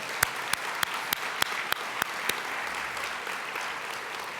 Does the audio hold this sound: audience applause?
yes